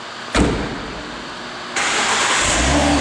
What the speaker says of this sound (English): I will turn the engine on for you. It sounds so nice